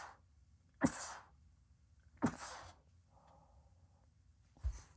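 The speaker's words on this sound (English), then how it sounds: "I hate sneezing, man." A person sneezes, giving three sharp bursts of breath spaced a second or more apart, close and fairly loud against a quiet room.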